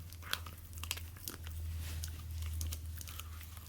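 Soft, irregular crunching and gnawing close by, a dog working steadily at something chewy, with a low steady hum underneath.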